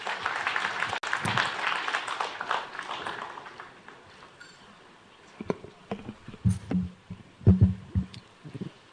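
An audience at a formal institute celebration claps. The applause starts dense and sustained, then fades and thins into scattered, uneven claps toward the end.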